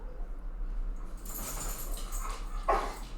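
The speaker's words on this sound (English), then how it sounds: "I got my dog yelling in the background." A dog barks and yelps in the background of an indoor room, a few short sharp calls rising over steady low hum, fairly faint and with no talk over it.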